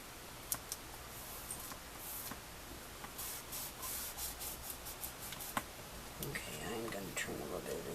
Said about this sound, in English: Let's burnish this.